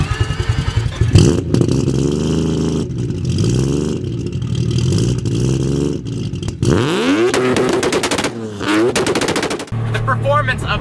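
A high-revving three-rotor rotary engine in a Mazda RX-7 screams up to its 8,000 RPM redline with a rapid, staccato machine-gun-like rattle, loud and close, rising in bursts with brief gaps between pulls.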